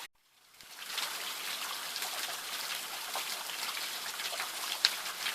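Water from Weeping Ridge Waterfall in Torreya State Park flows and trickles steadily, a constant close hiss of falling water with no voices over it.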